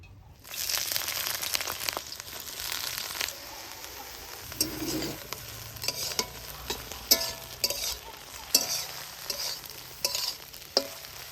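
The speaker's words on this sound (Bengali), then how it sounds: "এবার কচুরি পানাগুলা হালকা করে তেলের মধ্যে ভাজে নিব" Water hyacinth fries lightly in mustard oil with a steady sizzle, broken by repeated scraping and clinking from stirring, fairly close and with no voices.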